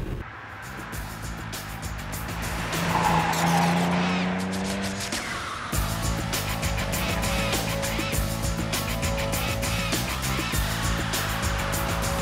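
A road-going race car drives by loud and close, its engine droning steadily. Tyres squeal and engine tones sweep up and down in the first half, then the sound settles into a constant rumble.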